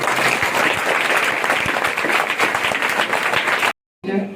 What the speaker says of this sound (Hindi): इसके लिए एक बार जोरदार तालियां।